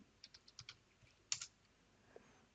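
A password being typed on a computer keyboard: a short run of quiet, close key clicks, then a slightly firmer press and one last faint tap, with no voices.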